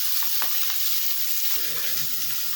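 Cheeseburger patties sizzle loudly and continuously in a pan, with intermittent stirring or scraping noises underneath the constant frying hiss.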